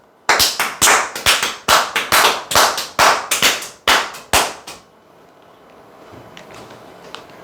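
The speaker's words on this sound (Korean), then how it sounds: "박수 한번 칩시다" A small group claps hands together at a sales seminar, a dozen or so sharp, loud, evenly spaced claps in unison, then a quiet room tone.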